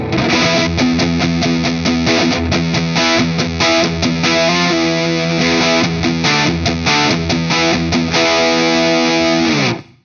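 Heavily distorted electric guitar through a Wampler Ratsbane distortion pedal with the voice control turned up chugs and rings through loud, gritty chords with a bright, forward tone, ending with a sudden stop.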